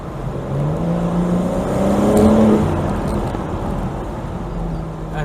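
A 2022 BMW M4 Competition Convertible M xDrive with an 8-speed ZF gearbox accelerating, its engine note climbing and holding through a steady, loud drone heard from inside the car, with no talk over it.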